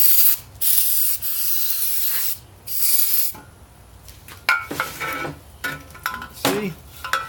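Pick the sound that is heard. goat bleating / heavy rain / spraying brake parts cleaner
spraying brake parts cleaner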